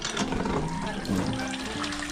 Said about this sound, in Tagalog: Ayan yung gripo.